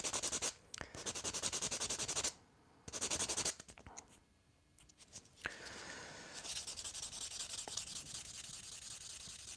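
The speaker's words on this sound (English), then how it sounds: "we're gonna have to scrape off quite a bit of plastic now" Plastic being scraped off a model kit part for a Death Army build, a close, steady rasping scrape in long bursts broken by brief pauses.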